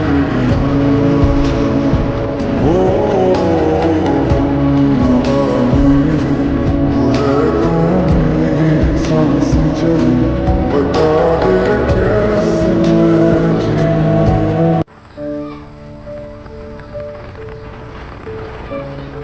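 A car travels at speed along a smooth road lined with trees near Jaflong in Sylhet, giving a steady, loud rumble of engine and road noise. The sound drops sharply near the end.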